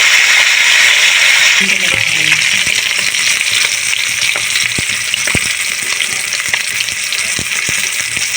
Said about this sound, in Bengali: মাছগুলো ভালো করে ভেজে নেব